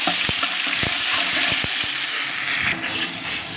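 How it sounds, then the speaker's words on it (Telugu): Ginger garlic paste frying in hot oil fills the air with a steady, close hiss and sizzle, interrupted by a few sharp clicks of a stirring spoon against the pan. "నూనె వేడైనాక ఒక 2 టేబుల్ స్పూన్లంతా జింజర్ గార్లిక్ పేస్ట్."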